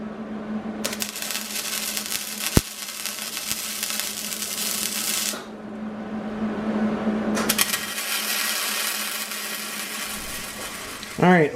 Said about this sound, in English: let me get the welder out and let's get it welded